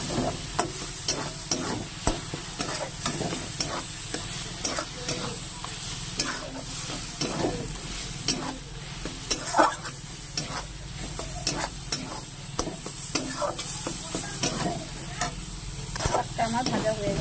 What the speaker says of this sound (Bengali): এবার আমি এটাকে গ্যাসটা বাড়িয়ে দিয়ে জলটা শুকিয়ে ভালো করে ভেজে নেব।